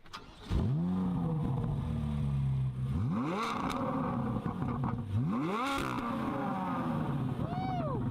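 A Corvette with its stock factory exhaust revs hard several times, each rev climbing steeply and loudly before falling back, with a deep rumbling idle in between, heard up close and alone.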